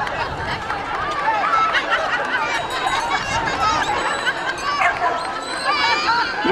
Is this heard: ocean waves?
no